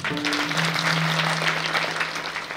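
Audience applause at a religious celebration gathering, steady dense clapping throughout with a low sustained hum underneath, no one speaking.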